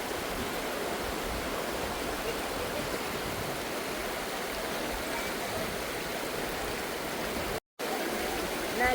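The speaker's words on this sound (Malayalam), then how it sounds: "നല്ല അടിപൊളി തണുത്ത കാറ്റാണ് വീശിക്കൊണ്ടിരിക്കുന്നത്" Steady broadband rush of cool wind blowing beside a river, continuous and even throughout with one brief dropout near the end, blending with the flowing water.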